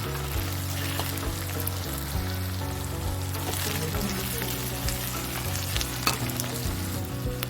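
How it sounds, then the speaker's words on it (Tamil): Onions and cashew nuts fry for a chicken gravy in a steady, close sizzle that continues throughout, with occasional stirring scrapes and crackles in the pan. "பாருங்கள், வெங்காயமும் நல்லா வதங்கிடுச்சு, முந்திரி பருப்பு எல்லாம் வதங்கியாச்சு."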